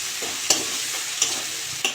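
Ginger paste and prawns sizzle in a pan while being stirred, a steady frying hiss broken by a few sharp spatula scrapes at regular intervals, close and without talk.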